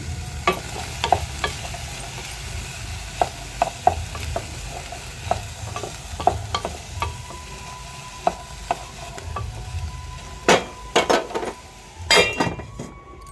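Onions fry in oil with a soft sizzle, broken by frequent clinks and scrapes of a utensil against the pan, close and moderately loud.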